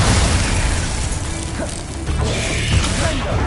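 Glacius spell effect in a video game, a loud burst of crackling, grinding magic with mechanical ratcheting textures and booming pops, sustained over a few seconds with no speech.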